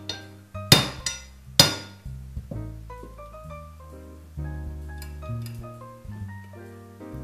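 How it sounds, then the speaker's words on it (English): Several sharp metallic hammer strikes on a punch driving a part of a Mauser M/96 rifle, a few loud taps early on followed by softer ringing tones. "I'm just using my punch to hammer it back into position."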